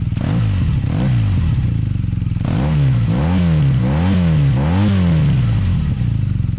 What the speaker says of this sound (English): The Boxer Twin is, of course, distinctive in its appearance and that droning exhaust note that comes from its even firing intervals.